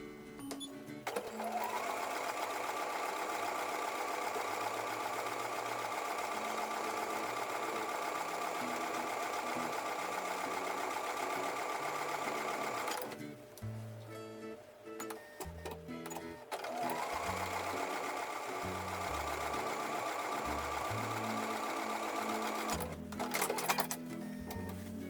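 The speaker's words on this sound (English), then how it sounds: "So I'm going to sew towards the bulky seam." A sewing machine stitches a quilt block seam toward a bulky intersection of fabrics, running in two long steady hums separated by a brief pause with soft handling clicks, quiet and close.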